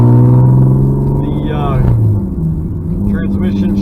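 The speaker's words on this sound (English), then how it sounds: "I don't know if you can hear the exhaust or not, but it's pretty loud, being a straight pipe car" Low droning exhaust of a 1995 BMW M3 with a straight pipe, a steady engine rumble heard from inside the car under continuous talking.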